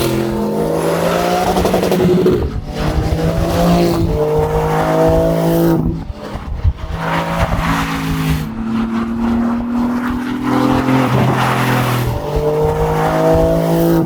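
A turbocharged car with a PDK gearbox revs hard and loud, its engine note climbing repeatedly and then dropping at each quick gear change, over roughly a dozen seconds with no talk.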